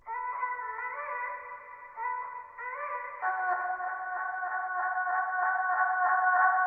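An exhale sent through an Echo Boy echo effect turns into a resonant, ringing tonal wash with repeating echoes, shifting pitch a few times and swelling gradually louder over several seconds.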